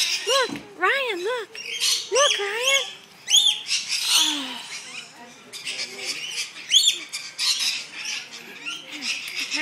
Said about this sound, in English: Have you ever held a parrot before?